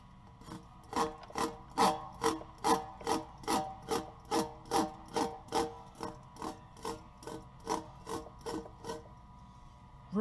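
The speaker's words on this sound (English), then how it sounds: "use the pre-buff and the scraper tool to scrape out the inner liner" A pre-buff scraper tool scrapes the inner liner of a tire during flat repair, a steady series of about twenty rhythmic rasping strokes, close and fairly loud, with no talking.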